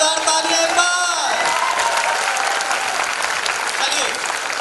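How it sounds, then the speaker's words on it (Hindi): A crowd at a network marketing team-building seminar in Lucknow breaks into loud applause. A sustained tonal voice opens the moment, then vigorous, dense clapping fills the room and continues strongly to the end. "तो तालियों में आवाज आनी चाहिए और पीछे तक जानी चाहिए, जोरदार तालियां एक बार"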